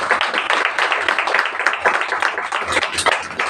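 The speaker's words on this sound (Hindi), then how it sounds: "ताली बजाओ उस लड़की के लिए।" A church congregation at a Hindi sermon claps for a girl, a steady, close spatter of hands that runs throughout, with faint voices in the background.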